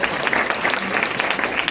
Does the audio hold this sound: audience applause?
yes